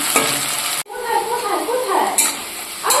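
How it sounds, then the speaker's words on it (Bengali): Onion frying in a pan for a fish-head and cabbage dish, with a loud, close sizzle and scraping stirs, broken by a short pause before the sizzling resumes. "পেঁয়াজটা ভাজা হয়ে গেছে, এবার দিয়ে দেবো টমেটোটা।"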